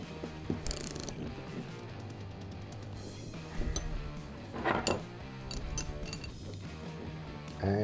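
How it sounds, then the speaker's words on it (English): Socket and 27mm ring spanner tightening a chain rivet tool on a rivet link chain, producing close metallic ratcheting clicks and clanks in uneven bursts over a steady low background hum. "Get your 27mm ring spanner over the body and use your socket"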